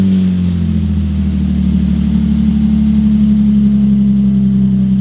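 Mazda MX-5 fitted with a KLZE V6, headers and a full custom catback exhaust, idling steadily with a deep, loud, continuous burble and slight rev swells, no talk over it.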